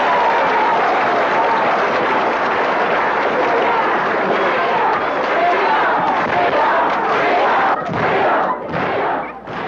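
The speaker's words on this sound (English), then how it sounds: "I think freedom deserves another round of applause." A crowd at a 1965 civil rights gathering in the American South claps and cheers loudly, a dense roar of applause and voices that holds steady before breaking up into scattered claps near the end.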